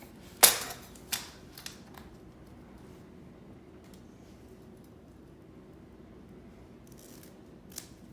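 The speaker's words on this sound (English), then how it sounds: "Yeah, I need to cut just a little bit." Scissors snip through aluminum lawn chair webbing strap, one sharp cut followed by a couple of lighter snips and a final snip near the end, close and alone over quiet room noise.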